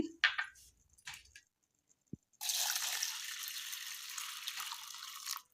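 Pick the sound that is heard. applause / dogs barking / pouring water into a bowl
pouring water into a bowl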